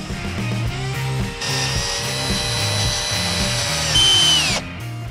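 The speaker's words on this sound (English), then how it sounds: "I had to re-drill new holes for that." Power drill boring new holes in an aluminium boat mast, a close, loud whirring motor with a rising whine as the bit cuts through metal, then winding down.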